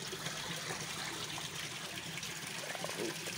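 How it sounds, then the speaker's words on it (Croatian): Clean water running steadily from a stone fountain at a church, a constant soft trickle and splash heard fairly faint and unbroken throughout, with no talk. "Evo je česma. Ovo je čista voda."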